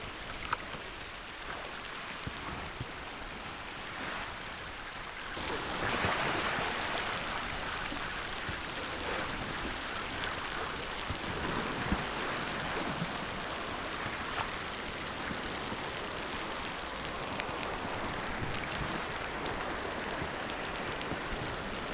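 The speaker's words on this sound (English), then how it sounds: "the rain is finally up on us" Steady rain falls on open water around a fishing boat, a dense even hiss that thickens partway through and keeps going, with no talk over it.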